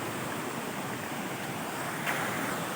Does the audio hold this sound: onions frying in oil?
no